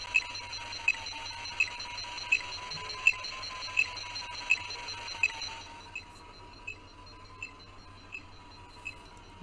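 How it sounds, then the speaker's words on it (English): Hasbro Ghostbusters Afterlife PKE Meter toy cycling its detecting sound effect: a steady electronic tone with evenly spaced bright beeps, repeating at a regular rhythm that softens partway through, close and clear with no talking. "you can hear that sound like it's detecting something."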